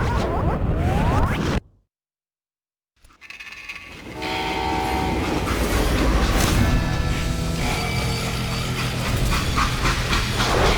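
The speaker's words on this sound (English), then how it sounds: "They hopped a freight train" Freight train in the Western shooter Call of Juarez Gunslinger: rumbling rail noise breaks off into near silence, then returns as a loud, steady clatter of wheels and carriages with horn-like tones sounding over it.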